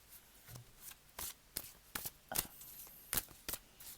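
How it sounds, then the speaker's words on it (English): Tarot cards being shuffled by hand, a series of crisp riffling bursts and soft slaps spaced irregularly, close and fairly quiet, with no talk over them. "I'm just picking up some number synchronicities at the moment as I'm shuffling"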